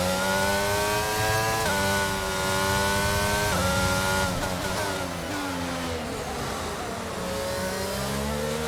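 An F1 race car engine in the F1 22 video game at Silverstone screams loudly and continuously, its pitch climbing through repeated gear shifts, then wavering and dropping as the car slows.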